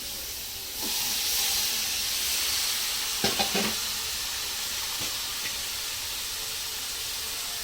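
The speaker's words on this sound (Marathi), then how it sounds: "आता हे बारीक चिरलेली शिमला मिरची हे घालते." Finely chopped capsicum with a little turmeric hits a hot pan, setting off a sudden loud steamy hiss that settles into a steady sizzle, with a few clinks of stirring partway through and no speech.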